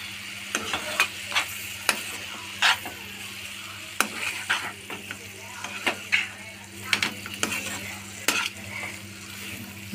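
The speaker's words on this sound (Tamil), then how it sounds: "நல்லா கலந்து விட்டுக்கோங்க." Eggs being stirred into a simmering egg gravy in a pan, with a spoon scraping and tapping against the metal in irregular strokes over a soft, steady sizzle, close and moderately loud.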